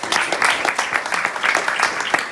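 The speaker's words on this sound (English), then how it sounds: "Give her a round of applause" A temple audience applauds steadily for a young disciple at a Vyasa Puja offering, a dense, even patter of many hands clapping close by without pause.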